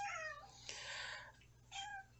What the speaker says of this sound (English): We have a kitty meowing.